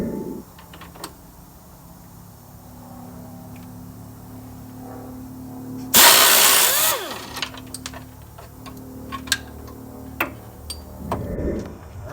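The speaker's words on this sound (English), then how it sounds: "hit that trigger, and boom, you get them bolts out by yourself" A power tool bursts on for about a second, loud and close, while K-member bolts are removed from a Chevy OBS Stepside truck. Quieter clicks and taps from handling tools follow.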